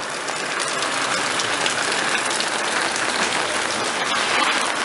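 Heavy rain pours down at home during the rainy season, a dense, unbroken hiss that stays loud and even from start to finish, with no voices.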